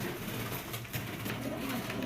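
Racer pigeons coo in soft, low, repeated murmurs, a steady overlapping burble from a group of birds close by, with no talking.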